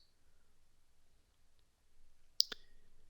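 A single computer mouse click on a save button sounds as a crisp double tick, close and isolated against near silence.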